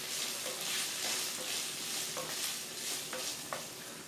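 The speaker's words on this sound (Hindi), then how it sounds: "2 मिनट हो गए हैं, हिला लेंगे हम इसको।" Onion and capsicum sizzle steadily in a pan for a chilli paneer dish, with a spatula stirring through them in a few soft scraping strokes, close and continuous with no talk.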